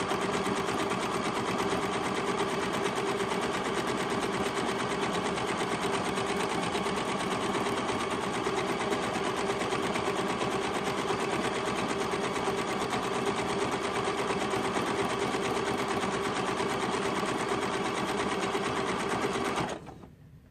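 A sewing machine runs continuously around the edge of a junk journal cover with a steady, close, rapid stitching drone. It cuts off abruptly near the end.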